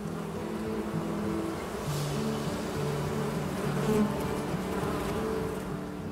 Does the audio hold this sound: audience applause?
no